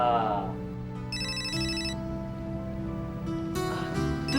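A telephone ringtone plays loud and close, a bright repeating electronic melody of stacked tones, while people's voices murmur underneath during a wedding photo shoot.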